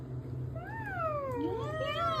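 A cat meowing, two or three drawn-out rising and falling meows close by over a low steady background hum, with no talking.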